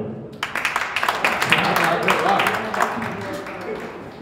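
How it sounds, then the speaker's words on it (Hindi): At a Hindi kavi sammelan held for a birthday, a few separate claps start up and quickly thicken into full crowd applause. The clapping stays fairly loud for several seconds, with voices talking through it. "आपके कानों में आकर कहूँगी ताली हो जाओ।"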